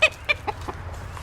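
Chickens in a small 4x8 sleeping coop with nesting boxes give a few close, short clucks in quick succession, then fall quieter.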